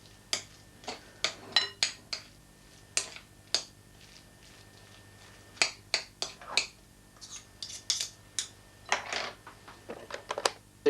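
Mashed potato being mixed with fish for fish cakes makes irregular close clicks and taps of a utensil against a bowl, with scraping strokes between them in a quiet kitchen.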